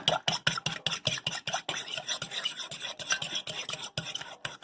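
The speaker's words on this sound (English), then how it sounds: "Got 2 eggs in the bowl. Just going to get those whisked up a little bit." Fork or whisk rapidly beating two eggs in a bowl, a quick steady train of scraping clinks and rasps, close and fairly loud, with no talking.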